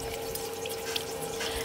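Water runs and sloshes steadily as broccoli is soaked in salted water with a little vinegar in a home kitchen, a close, continuous wash of liquid noise without speech.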